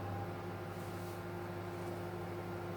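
A microwave oven running at 700 watts with sausages inside, a steady low electrical hum and whir with a constant drone, unchanging throughout and with no voices.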